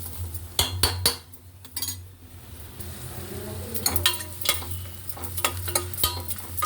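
A spoon stirring turmeric, chilli powder and garam masala into oil in a pan, with sharp metallic clinks and scrapes against the pan over a soft background sizzle, strokes coming in irregular bursts.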